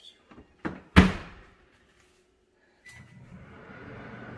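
A microwave door is shut with one firm thunk, after a few small clicks and taps. After a pause a low, steady hum starts up.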